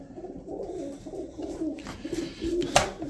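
Uzbek pigeons coo steadily at close range while being fed, soft repeated throaty calls layered over one another, with a sharper rustle near the end.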